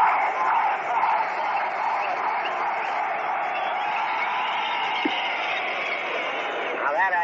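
A bleacher crowd at the Polo Grounds roars and cheers during a 1937 World Series game, a dense, sustained wall of distant voices with no pauses from start to finish.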